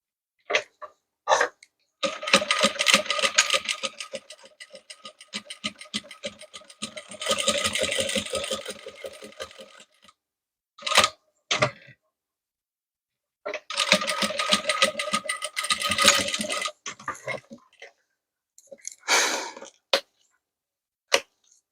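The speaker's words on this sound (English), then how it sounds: "So now I have sewn on one side" A sewing machine stitches corset fabric in several close, rapid bursts separated by pauses and brief handling clicks, with no talking.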